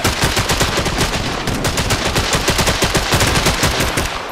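Rapid automatic gunfire aimed at an anomaly in a tactical four-player shooter, a loud, steady stream of closely spaced shots running without pause and without talk.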